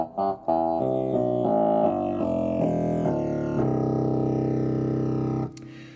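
A pipe organ's 16-foot stop in the swell division sounds a run of low notes, each sustained tone loud and steady, stepping through the notes before one long held note cuts off.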